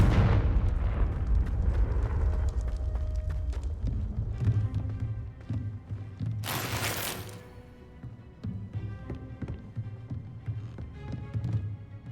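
Confringo spell blasts in the video game Hogwarts Legacy, heavy booming explosions with rumbling low-end decay and a sharp crackling burst midway, set against game ambience.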